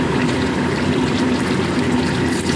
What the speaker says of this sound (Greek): Θα ρίξουμε και λίγο νεράκι.